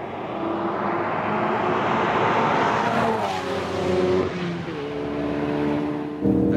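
A Ford Focus RS driven hard on a race track, its engine roaring loud and steady throughout, with revs rising and falling through gear changes and a sharp surge near the end.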